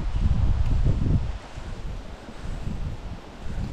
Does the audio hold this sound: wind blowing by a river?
yes